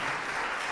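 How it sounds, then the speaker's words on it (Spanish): Women in a church congregation clap together in a dense, steady burst of applause, loud and close, with no talk over it. "Las mujeres aplaudan, los hombres no."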